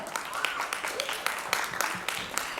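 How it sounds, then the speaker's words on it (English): Audience applause welcoming Namita Thapar, Executive Director of MCure Pharmaceuticals, on stage at a pitching session: dense, steady clapping from a crowd with a few sharper claps standing out and murmuring voices underneath. "keep the applause going"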